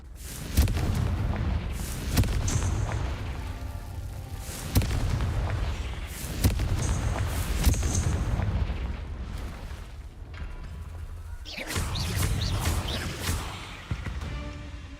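Repeated Confringo fire-spell blasts in Hogwarts Legacy on PlayStation: loud booming explosions burst every couple of seconds, each with a crackling rumbling tail, over continuous game ambience.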